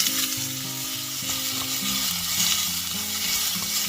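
Green chillies, ginger and curry leaves fry in a hot pan with a constant close hiss, while a low tonal hum runs steadily underneath and no one speaks.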